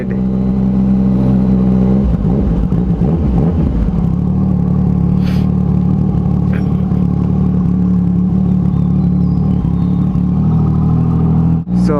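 A Yamaha MT-09 motorcycle fitted with an aftermarket exhaust hums steadily while riding, a close, continuous engine drone with a brief rise in revs early on, then an even cruise throughout.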